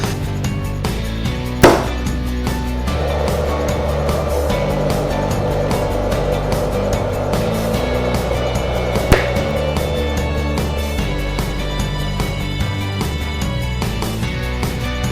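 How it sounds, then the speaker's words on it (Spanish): A three-phase electric motor hums steadily with a droning tonal whine while it is switched by contactors KM1 and KM2 to reverse its rotation. Two sharp clicks stand out, one near the start and one midway. "pasa la energía al motor y el motor empieza a invertir su sentido de giro"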